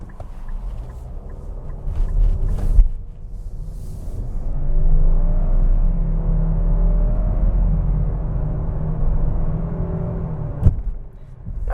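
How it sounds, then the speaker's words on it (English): A 2021 Nissan Rogue SV's 4-cylinder engine accelerates from 0 to 60 during a test drive, a steady low rumble that swells and holds with a rising drone, with a brief knock near the end. "we're going to have a great opportunity to get a 0 to 60 acceleration immediately into this test drive"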